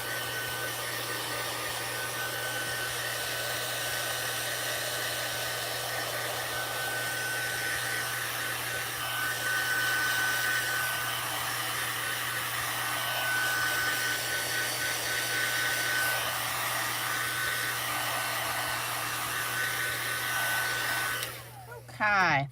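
A heat tool blows steadily for about twenty seconds while heat-setting rubber stamp ink, a constant loud fan whir with a low hum, then it switches off near the end.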